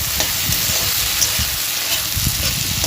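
Water spinach and potato frying in oil as they are stirred in a pan: loud, dense, continuous sizzle with low scraping and thumping strokes of the spatula throughout, close up, no voices.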